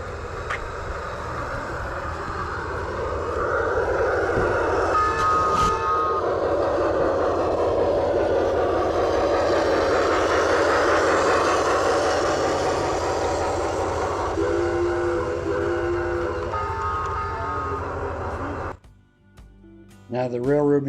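A small train at a railroad and lumber company museum rumbles past up close with a steady mechanical roar and a few squeals and whistle-like tones, then fades as voices murmur.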